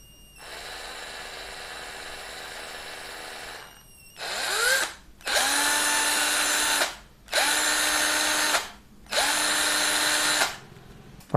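Cordless Buildskill drill/driver spinning up in several separate runs, first a steady hum, then four loud whirring bursts with rising motor pitch and short pauses between them as the rotation direction is switched between clockwise and anticlockwise.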